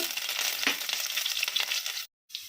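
Dried red chilies and curry leaves crackling and sizzling in hot oil after garlic, a dense bright frying hiss with small pops, close up, cutting out briefly near the end.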